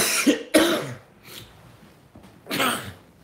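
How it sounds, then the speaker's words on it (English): A person on a live stream breaks into a coughing fit as their voice gives out. Three or four harsh, close coughs come in uneven bursts, with a short quiet gap before the last one. "I'm going to have a coughing fit."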